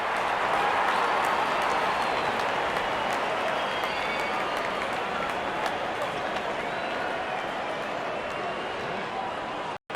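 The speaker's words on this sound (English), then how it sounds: "Wonderful 50 and the crowd applauds." Cricket crowd applauding a batsman reaching his fifty in a T10 match, a steady, dense wash of clapping and cheering across the whole stretch, fairly loud and continuous, with a voice speaking over it.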